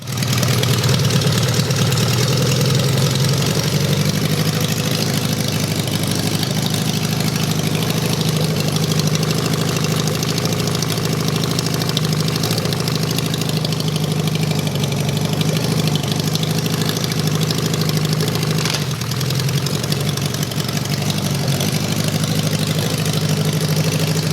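A Suzuki GS550 engine mounted in a mini buggy runs continuously and loudly, a steady mid-low drone with slight pitch shifts throughout and no talk over it.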